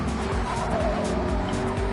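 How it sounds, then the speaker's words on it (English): Loud tyre squeal from a McLaren 650S Gr.3 race car on soft tyres in Gran Turismo at Lago Maggiore, a sustained skidding screech over a roaring engine as the car recovers from the grass. "a big tyre squeal in there from Dog"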